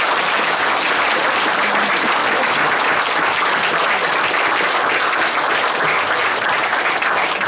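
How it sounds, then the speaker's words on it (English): An audience at a military graduation ceremony applauds continuously, a dense, loud, even wash of clapping from many hands that holds steady throughout. "please rise and applaud in appreciation of the presence and sacrifices of your spouses and families"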